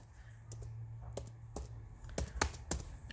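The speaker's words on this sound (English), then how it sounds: "You type crochet" Light, quick key taps on a computer keyboard, about seven or eight crisp clicks in an uneven rhythm, close and fairly quiet, with no talking.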